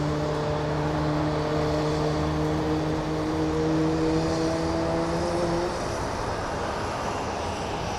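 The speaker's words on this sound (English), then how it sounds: "here we have our Milwaukee flight powering on" Airbus A320 jet engines powering up for departure at Phoenix Sky Harbor airport, a steady loud roar with rising whining tones that fade into broad rumbling noise, heard from a distance without talk.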